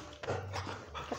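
A small female dog belonging to a neighbour makes brief, close, low vocal sounds, short and irregular, against a muffled background.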